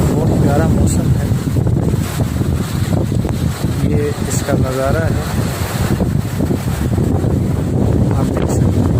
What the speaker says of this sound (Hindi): आप देख सकते हैं, बहुत तेज़ हवाएं